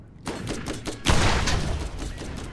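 Rapid bursts of gunfire from Growler in the video game Borderlands, a quick run of shots followed by a louder, denser volley that keeps going without a break, with no talking.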